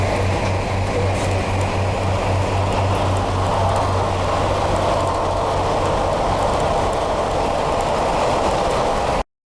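Steady rumble and hiss inside a moving passenger train on a ride toward Selby, a continuous loud drone with a low hum and faint rhythmic clatter, no talking.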